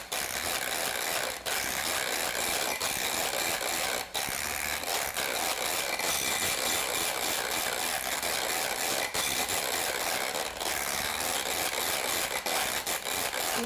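An electric mixer whipping coconut cream on high speed, a dense continuous whirring buzz with occasional brief dips, close and steady throughout.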